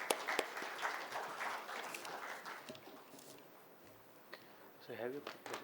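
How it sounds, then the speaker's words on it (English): Conference audience applause for a session speaker at an Olympic research conference, a faint, distant patter of clapping in a large room, with voices over it near the end. "Here's a wonderful applause for Mr."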